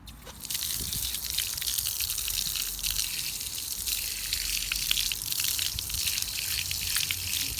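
Tap water runs steadily over a skinned dove being rinsed by hand, a continuous splashing gush in a sink that starts abruptly and keeps up with small drips and splatters.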